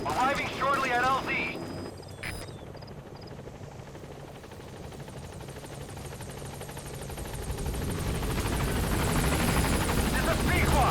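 Pequod helicopter arriving at the landing zone in Metal Gear Solid V: The Phantom Pain, a steady rotor roar that swells louder toward the end, with a radio voice speaking briefly at the start.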